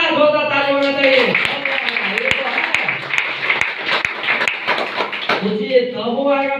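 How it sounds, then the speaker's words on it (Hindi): At a DXN motivational meeting, loud, sharp claps ring out from the audience for about four seconds, with someone speaking just before and just after the applause. "जोरदार ताली होना चाहिए।"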